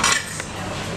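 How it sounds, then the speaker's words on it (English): A knife cuts through thick, tender steak on a plate at an Italian restaurant in Bangkok, giving a brief scrape of metal against the dish followed by a faint clink and quiet room tone. "I get to work with this knife"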